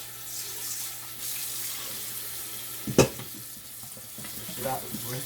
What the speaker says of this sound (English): we're going to rinse these here off real good. We'll pour them in our strainer.